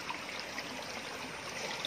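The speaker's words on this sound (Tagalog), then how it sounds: "Running water, oh." A small, clean stream runs steadily, a soft continuous trickling and gurgle of flowing water heard close and alone.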